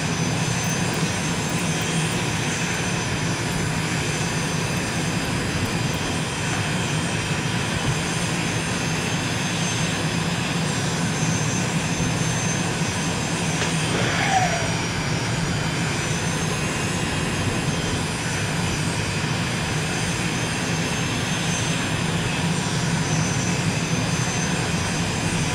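An MB-339 jet trainer rolls out, its engine giving a steady, loud, close whine and roar that holds constant throughout with no break, heard as if from inside the cockpit.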